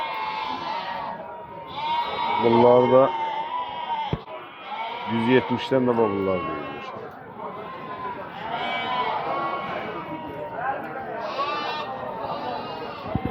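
Goats at the Barda livestock market give a couple of loud, wavering bleats in quick succession amid a busy outdoor crowd, with someone talking close by throughout.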